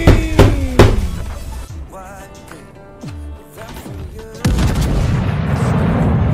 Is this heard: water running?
no